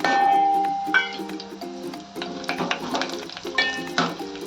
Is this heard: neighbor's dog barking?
no